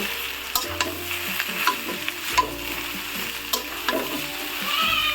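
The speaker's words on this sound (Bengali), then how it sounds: "এইভাবে 15-20 মিনিটের মতো থেকে ভাজি করে নেব। মাঝে মাঝে একটু নেড়ে দেব।" Chunks of green jackfruit sizzle steadily in hot oil with cardamom in a pan, with repeated scraping and clattering stirring strokes over the continuous frying hiss, close and moderately loud.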